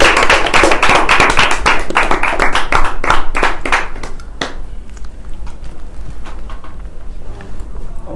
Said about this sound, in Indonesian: Beri tepuk tangan buat Ustadz Haji Sholahuddin Al-Ayyubi